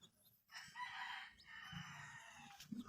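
Rhode Island Red chickens and chicks cluck and give a short crow nearby, faint but clear, with soft peeping and shuffling around them.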